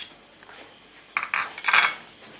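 A ground coconut paste being mixed into cooked beetroot in a pan, with a few close metallic spoon scrapes and clinks after a quiet start, loudest near the end.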